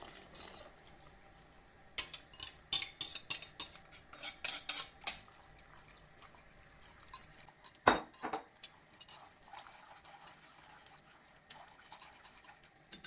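Metal spoon scraping and clinking against a pot while hot water is stirred into Turkish yogurt soup, close and quiet with bursts of clatter, then a sharp clink and softer stirring.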